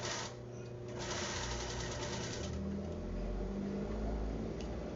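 A sewing machine stitching along the cup of a bikini top, a rapid, steady mechanical whir that starts after a brief pause and runs continuously at close range, fairly quiet.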